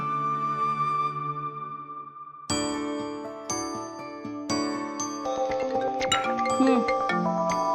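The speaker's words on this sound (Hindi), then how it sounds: "आ गया तुम्हारे भैया का फोन।" A phone rings with a bright electronic ringtone melody of chiming tones, building from a sustained note into a busier repeating jingle, loud and close.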